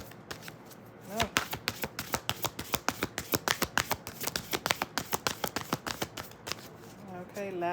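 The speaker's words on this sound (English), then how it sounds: "Okay, last shuffle." Tarot cards are shuffled by hand in a rapid run of crisp riffling snaps and slaps that last several seconds, loud and close, with a voice speaking briefly near the start.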